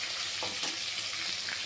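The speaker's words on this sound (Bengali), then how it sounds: "এবার মাছটা ভাজা হয়ে যাক" Katla fish frying in hot oil in a pan, giving a steady sizzle with light crackling that stays even through the short stretch, with no voices.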